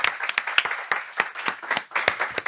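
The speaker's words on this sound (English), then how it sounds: "One big applause again for Isaac." Scattered clapping from a modest audience after a technical talk on the Enigma machine: distinct individual claps, uneven and fairly light, rising and dipping over a couple of seconds without voices.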